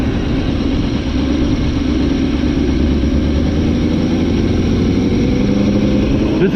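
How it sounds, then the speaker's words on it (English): A Kawasaki 636 motorcycle idles steadily and close by, a continuous low engine rumble with no revving, heard alone without any voices. "just let the bike idle"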